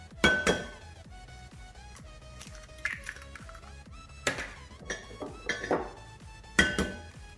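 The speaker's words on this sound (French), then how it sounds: "Dans un saladier, on va casser les 3 œufs." Three eggs cracked into a mixing bowl, heard as several sharp taps and clinks on the bowl's rim spaced across a few seconds, fairly close.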